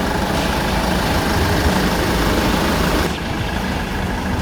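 Engine of a 2008 Hyundai Grand Starex camper van idling with the engine bay open, a steady loud low rumble and broadband drone throughout, close up with no talk.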